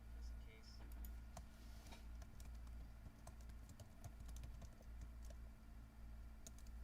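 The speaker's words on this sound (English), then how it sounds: "I wonder who's deciphering the clacking of my keyboard to try to figure out what my password is" Someone types a password on a computer keyboard, giving faint, irregular clicks and clacks over a low background hum.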